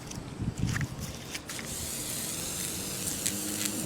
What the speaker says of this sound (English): This is the one I happen to have, and you just spray it all down nicely.